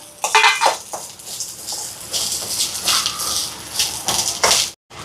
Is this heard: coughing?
no